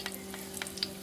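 Fenugreek seeds sizzle in hot oil for a murrel fish curry, a steady crackling fry with a few sharp pops, heard close under a faint constant hum and without voices.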